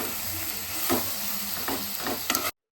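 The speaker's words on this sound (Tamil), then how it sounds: "நம்ம மிளகாத்தூள் சேர்த்து நல்லா கிளறி விடுறோம்." Mushrooms frying with chili powder in a pan, a steady low sizzle broken by several scraping stirs of a spoon against the pan, close and alone.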